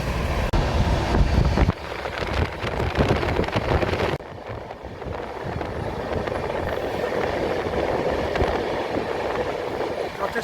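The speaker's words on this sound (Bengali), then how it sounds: "এই হলো রাতের ট্রেনের অবস্থা বন্ধুরা।" A train rushes by at night near Asansol, a loud, close roar of wheels and wind that drops in level twice and keeps rumbling steadily.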